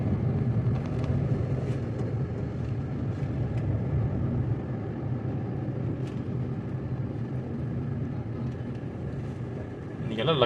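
Dense city traffic jam in Kovai, a continuous low rumble of idling and slowly moving engines close by, with a sharper burst near the end and talk mixed in.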